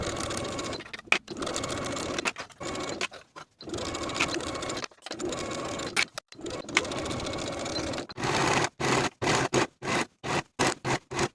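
A sewing machine stitches a waistband onto the top of a pair of women's pants with a 5/8 inch seam, running in close, loud bursts that turn into rapid short stop-start runs near the end.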